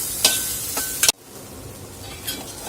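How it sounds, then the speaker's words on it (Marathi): Spiny gourd (kantola) roasting in a pan with brief scraping stirs and clinks of a utensil, a couple of quick bursts over a soft background sizzle, close and fairly quiet. "आणखीन थोडंसं आपण याला भाजून घेणार आहोत"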